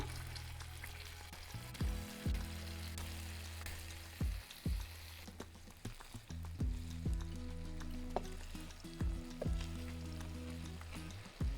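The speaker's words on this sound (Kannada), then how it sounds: "ಪನ್ನೀರನ್ನು ಅಷ್ಟು ಕಡೆ ಫ್ರೈ ಮಾಡ್ಕೊಂಡಿದ್ದೇನೆ ನೋಡ್ರಿ" Masala-coated paneer pieces shallow frying in oil in a pan, a steady close sizzle broken by several sharp clatters as pieces are turned, with no talking.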